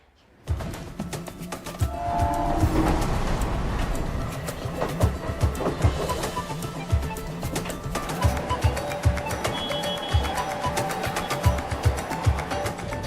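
Mumbai suburban train running toward Thane, heard from the driver's cab: continuous rattling and clattering with rhythmic wheel knocks over a low rumble, with a short tonal horn or whistle early on.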